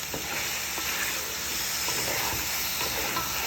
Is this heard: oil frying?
yes